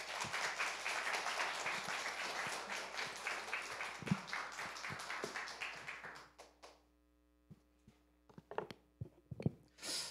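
A church congregation at a Sunday worship service applauds, a dense round of clapping that thins out after about six seconds into a few scattered claps and taps in a quiet room.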